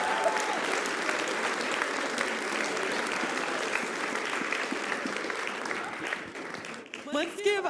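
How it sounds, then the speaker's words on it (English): A large audience at a speedrunning charity marathon claps loudly and continuously after a Tetris Grandmaster 3 run, dense sustained applause with scattered cheers that thins toward the end as voices come through. "Let's give another round of applause for that mind-blowing display of Tetris Grandmaster."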